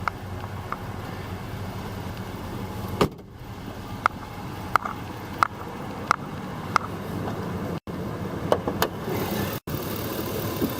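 A car V8 engine idles steadily and quietly with a low, even rumble, broken by a few sharp clicks and brief dropouts.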